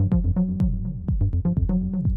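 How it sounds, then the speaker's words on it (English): A squelchy, resonant synth bassline repeating in a quick looping pattern, with sharp percussive clicks punctuating it, loud and alone. "This is a really nice acid synth loop"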